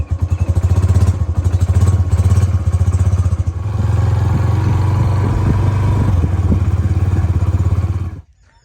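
A motorcycle engine runs loudly and close in a Pakistani village, a steady low throbbing drone with some mechanical clatter that holds for several seconds before cutting off abruptly near the end.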